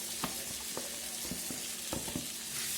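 Pre-fried meat added to a pan for noodles sizzles in a steady hiss, with several light scraping strokes of a spatula at an uneven rhythm.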